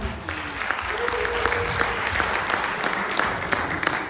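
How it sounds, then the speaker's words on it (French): Sustained applause from a gathered audience in Washington DC honouring a pastor, the clapping dense and even throughout, with a brief voice and faint tone rising above it early on. "Est-ce qu'on peut applaudir pour le pasteur Picard?"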